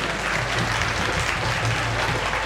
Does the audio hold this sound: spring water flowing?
no